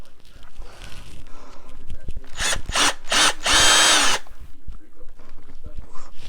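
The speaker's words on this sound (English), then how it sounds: "let's get our drill back out here" A power drill bores a hole in a plastic bucket for a snowman craft, with short bursts of high whining spin and a longer sustained run, plus handling clatter around it.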